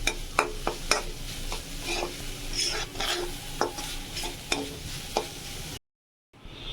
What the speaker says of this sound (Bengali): এবার এগুলো একদম ভালো করে ভাজতে হবে